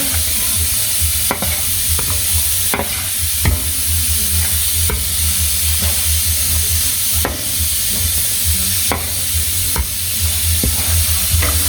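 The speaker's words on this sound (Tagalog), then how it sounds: "Hahalu-haluin lang natin hanggang sa mag-well combine" Tomato paste being stirred into a sauce in a hot pan, with steady frying sizzle throughout and periodic scraping stir strokes, close and loud, no talk.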